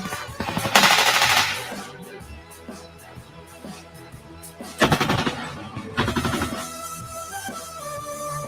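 Broadside cannon and gunfire rings out in loud bursts, a heavy barrage near the start followed by two more loud volleys later, with music playing throughout.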